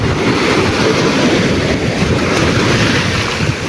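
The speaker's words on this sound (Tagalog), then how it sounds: "abot ng alon yan dyan" Waves surge and wind roars steadily out on the open sea during a strong northeast monsoon, a dense, continuous wash of surf and gusting air close around a fishing boat, loud and unbroken throughout.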